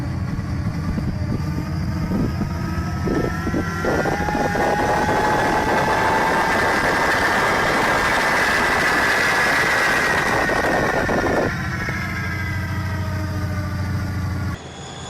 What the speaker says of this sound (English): It looks like a train with a jet engine.